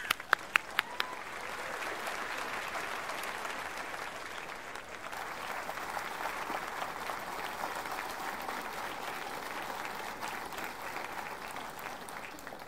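A Boston lecture audience applauds in welcome of physicist Michio Kaku, a dense, sustained wash of clapping at moderate distance, opening with a few sharp individual claps before the crowd fills in, with no talk over it.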